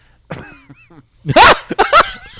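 Two short, harsh coughs from a nearby voice, with a few faint vocal sounds just before them.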